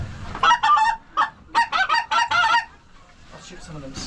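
Snow geese honk loudly and nearby in a snowy blizzard field: a rapid run of overlapping, raucous calls in quick bursts, which then thin into fainter, more distant honking.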